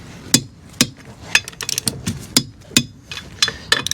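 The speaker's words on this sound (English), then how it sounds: "Always make sure I torque my wheels up." Wheel nuts on a Peugeot 208 being tightened with a torque wrench during a service, sharp metallic clicks and knocks in an uneven rhythm, about a dozen close, crisp hits with no talk.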